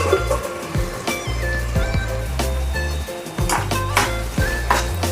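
Tomatoes tipped into a pan of cooking potatoes set off a steady loud sizzle, with scraping and clanks of a spoon against the pan throughout.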